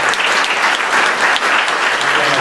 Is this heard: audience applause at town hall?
yes